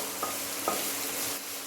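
Chopped green chilies frying with onion in a pan, a soft continuous sizzle with two light spatula scrapes, close but fairly quiet.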